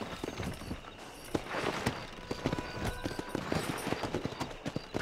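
Horse hooves clip-clop at a steady riding pace in Red Dead Redemption, a dense continuous rhythm of hoof strikes over faint ambient noise, close and moderately loud throughout.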